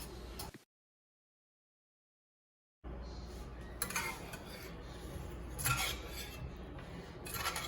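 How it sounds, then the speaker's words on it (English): Carrots being stirred through a spiced glaze in a pan: after a brief silent gap, a steady close-up scraping and soft clinking of utensil against cookware. "Now I will add the carrots to the glaze, and then I will stir it to coat."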